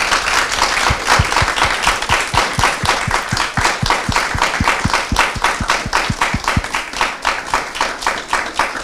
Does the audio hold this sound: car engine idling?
no